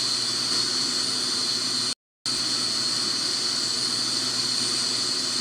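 A Boeing 717-200 jet engine idles in the Infinite Flight game, a steady loud whine and hiss that cuts out briefly before resuming.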